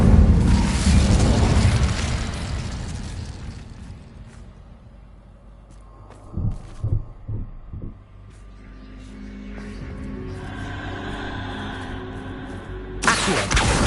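A fire spell erupts with a whooshing roar in the Hogwarts Legacy video game, loud at first and fading over a few seconds, followed by scattered thumps, a low rumble and another sharp burst at the end.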